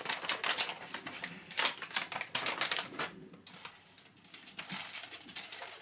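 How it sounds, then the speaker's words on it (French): A second 300 g packet of magnesia powder being torn open and handled, giving a busy run of close crinkly rustles and crackles that thin out partway through, with no talk. "là je vais ouvrir mon deuxième paquet de magnésie"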